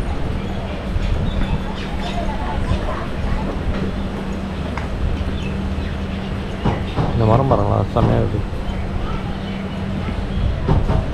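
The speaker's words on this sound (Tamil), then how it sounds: "ஒரு வழியா வந்து ட்ரெயின் கிளம்பிடுச்சு." Pothigai SF Express train running from Chennai Egmore toward Sengottai, heard from on board as a steady loud rolling rumble with rhythmic wheel clatter throughout, while someone talks over it.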